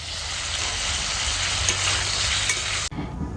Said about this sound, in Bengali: বেগুন ভাজা করবো